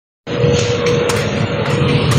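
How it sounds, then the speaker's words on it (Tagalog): A car goes by close and loud, its steady broadband road and engine noise holding for about two seconds after a sudden onset, with no talk over it. "Sasakyan to."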